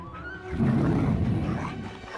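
A deep, rough roar swells up close and loud from a huge bear as a dog attacks it in a film scene, lasting about two seconds.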